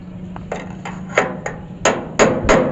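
A hammer pounds on a car's knuckle bearing to free it, about seven sharp metallic strikes at an uneven pace that grow louder toward the end, close and with no voices.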